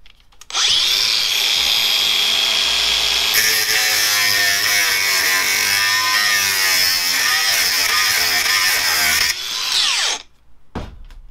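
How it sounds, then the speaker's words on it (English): An angle grinder cuts along a seam in the floor metal of a VW T5 van. It makes a loud, steady, high whine that runs for about nine seconds, then spins down and stops. "When you go with the grinder now, you want to cut along that join a few times"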